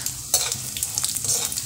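Tempering spices of cumin, chana dal, urad dal, mustard seeds and dried red chili frying in hot oil, a crackling sizzle with sharp pops and stirring scrapes, close and alone.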